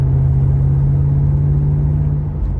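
A 5-litre engine in an 1980s Holden VL Walkinshaw idles with a deep, steady rumble, loud and close, with no talking.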